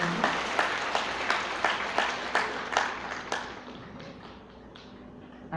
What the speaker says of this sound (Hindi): बैठ दोनों के लिए ताली बजाओ और अपने लिए भी बजाओ।